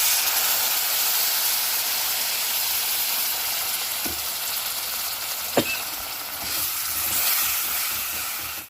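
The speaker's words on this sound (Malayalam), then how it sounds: "വിനിഗർ ഒഴിച്ചിട്ട് കുറച്ച് തിളയ്ക്കണം" Vinegar poured into a pan of fenugreek powder over low flame for a garlic-ginger pickle, giving a loud, continuous sizzling hiss broken by a couple of sharp clinks.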